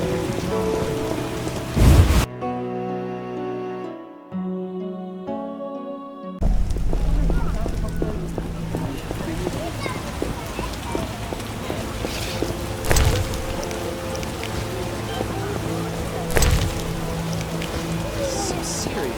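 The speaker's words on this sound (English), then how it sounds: "Some serious rain." Heavy rain pours steadily in The Witcher video game, a dense, loud hiss broken by a short musical passage, then resuming with occasional thumps and rumbles like distant thunder.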